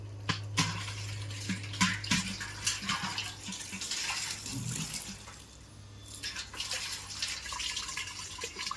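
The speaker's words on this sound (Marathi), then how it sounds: "इकडून पाणी येतं" Water from a household pipe, the supply rerouted after a tap line broke, flows steadily with a continuous low hum and rushing wash, dotted with sharp splashes and drips throughout.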